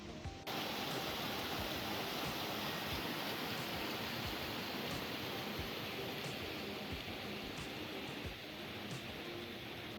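Rushing water of Numa Creek near a confluence on the Rockwall Trail in the Canadian Rockies, a steady, broadband roar that stays loud and close for the whole stretch, with no voices over it.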